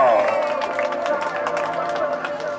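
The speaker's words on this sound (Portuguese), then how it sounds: "Pode bater palmas aí" Clapping and cheering from a crowd at a mother's birthday party in São Paulo, steady dense applause with chatter layered over music throughout.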